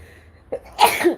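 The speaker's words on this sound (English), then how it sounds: "This is probably why I'm sneezing so long." One close, sharp human sneeze, preceded by a short intake of breath, heard alone in a quiet room.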